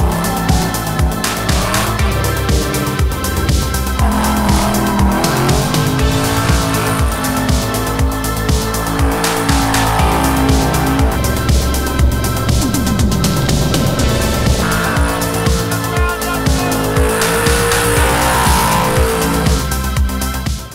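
A Snap-on Factory Five Mk4 Challenge car driven hard on a track, a loud continuous engine drone with revs rising and falling and tires squealing through the turns, with no voices.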